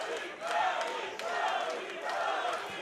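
Crowd at a live gladiator-style fight event in the ancient theatre of Plovdiv, sustained loud shouting and chanting in waves, dense and reverberant without a break.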